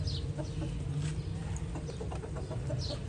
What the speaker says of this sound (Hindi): ये मेरा देसी मुर्गा है यहाँ पे